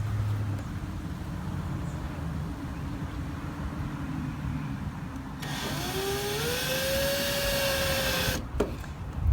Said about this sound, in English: drill your pilot holes at the top here using a 13/64 inch drill bit